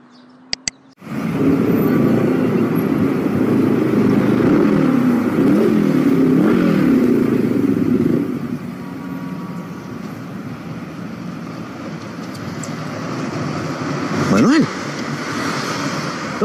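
A motorcycle engine revs loud and close for several seconds, then drops to a steadier idle-like rumble with a brief surge near the end.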